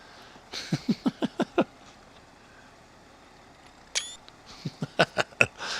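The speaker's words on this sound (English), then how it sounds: "Now I'm going to get a screenshot here." Screenshots being taken in Farm Expert 2017 give a series of short, crisp camera-shutter clicks, six in quick succession, then a pause and another fast burst of clicks, close and clear with no voices.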